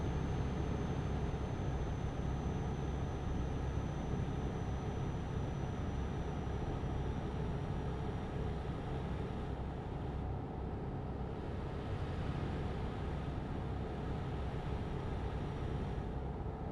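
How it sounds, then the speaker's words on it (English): A semi truck's engine roars steadily under load while climbing a grade on a long-haul delivery, a loud continuous low drone with road and cab noise, constant throughout with no talking. "now I can hear the engine absolutely roar up here"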